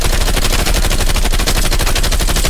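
Continuous, loud, rapid automatic gunfire in Black Ops Cold War, a dense stream of shots close up with no pause across the whole stretch.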